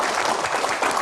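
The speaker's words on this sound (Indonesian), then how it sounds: "tepuk tangan." Audience applause at an Indonesian Q&A event about Bahlil, a dense, steady clatter of many hands clapping for about a second, fairly loud and continuous with no talk over it.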